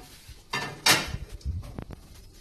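Paua patties go into a fry pan with a couple of clattering knocks of utensil against pan, then a few lighter scrapes and taps, close and fairly quiet.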